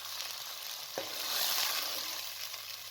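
Roughly a glass of water poured into a pan of frying masala: a brief splash followed by a broad, rising hiss of sizzling and bubbling that continues steadily, with no talk.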